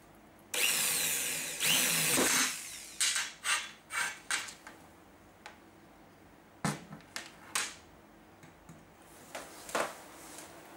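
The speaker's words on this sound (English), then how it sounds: "then we'll drill these screw holes." A power drill whirs in two long bursts, then a run of short, sharp spurts of drilling screw holes in an aquarium lighting heat sink, close by and loud, with quieter pauses between.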